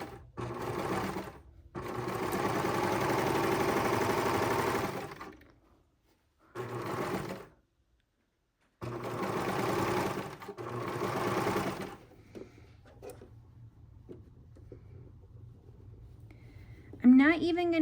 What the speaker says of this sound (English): I'm just gonna sew it down, and I'll iron it kind of at the end